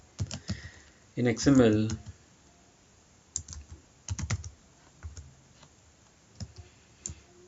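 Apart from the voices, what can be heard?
typing on a computer keyboard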